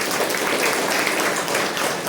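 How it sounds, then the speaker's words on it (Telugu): Congregation clapping together during a Sunday Telugu church worship service, a steady dense wash of applause filling the whole stretch without pause. "అందరూ చప్పట్లు కొట్టి దేవునికి స్తుతించండి."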